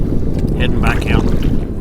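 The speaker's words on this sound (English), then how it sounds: "Wind seems to be picking up a little bit." Gusty wind rushes over the microphone on the Neuse River during a kayak trip, a loud, continuous buffeting roar lasting under two seconds with faint higher rustles and no clear speech.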